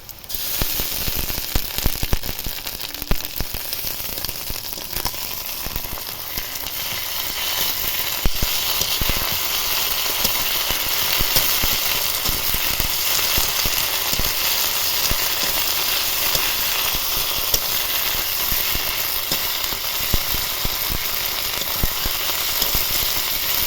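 A ground paste of green chili, ginger, cumin, coriander and melon seeds fries in a pan for chicken ghugni, giving a loud, continuous bright sizzle with scattered crackles and no voices.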